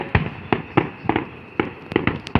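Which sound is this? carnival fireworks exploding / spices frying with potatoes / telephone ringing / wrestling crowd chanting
carnival fireworks exploding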